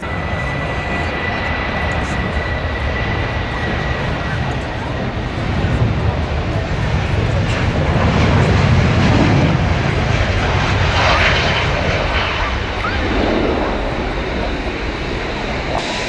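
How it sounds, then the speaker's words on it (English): Airbus A380 airliner taxiing at Manchester Airport, a steady distant jet whine and rumble that swells gradually and fades again, with faint crowd chatter around. "there she is, taxiing back to the stand"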